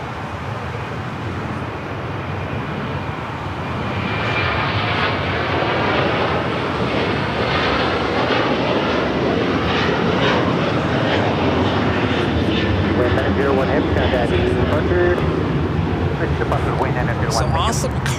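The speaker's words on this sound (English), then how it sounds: "Awesome Cargo now rolling down. It's an A330-200." An Awesome Cargo Airbus A330-200 freighter rolling down the runway at LAX, its jet engines swelling into a loud, sustained roar that holds steady and close as it accelerates.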